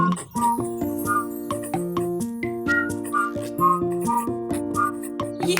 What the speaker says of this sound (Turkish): Biz ıslık çalarken